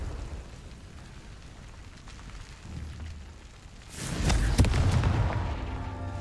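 Confringo fire spell explosion in Hogwarts Legacy, a loud burst with booming crackle arriving partway through after a quieter stretch of game ambience, then ringing out.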